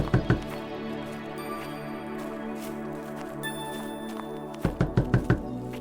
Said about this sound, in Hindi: इतनी जोर से सुबह सुबह कौन दरवाजा पीट रहा है?